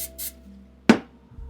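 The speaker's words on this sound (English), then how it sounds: "I'm going to spray the bottom of this bowl with some Pam and the sides" Pam cooking spray bursts once into a bowl, a short, close hiss of about a quarter second that fades quickly, with soft handling noises around it.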